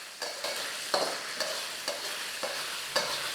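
Rice noodles with garlic and oyster sauce are stir-fried in a wok, a sizzling bed broken by about seven rhythmic scraping tosses of the spatula, close and moderately loud, with no voices.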